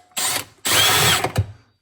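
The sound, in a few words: power drill drilling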